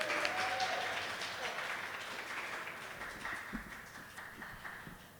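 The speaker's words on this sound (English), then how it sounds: "Round of applause for Joe." Audience at a storytelling and poetry evening breaks into a round of applause, dense clapping that starts strong and gradually tapers off across the clip.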